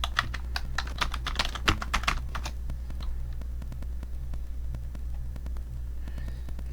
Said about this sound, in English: Then here you're going to enter your username and password.